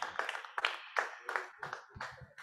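An audience at a Sufi music therapy masterclass claps in a series of sharp, uneven bursts at moderate distance, with a low murmur under the final second.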